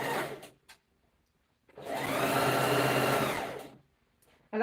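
A sewing machine stitches a satin scarf in one sustained run of about two seconds, a close, steady mechanical whir that starts and stops abruptly, framed by small handling clicks before and after.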